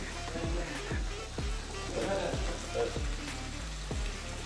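Onions fry in oil in a pan, giving a steady, close sizzle throughout, broken by regular scraping strokes as they are stirred.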